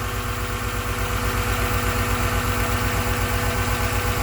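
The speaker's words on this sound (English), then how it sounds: "All right, the car is running." A 2000 Honda Accord engine with a misfire idles steadily close by, a continuous rumbling drone with a regular pulsing throb and slight uneven knock, no voices.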